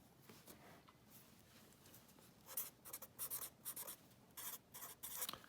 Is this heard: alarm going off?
no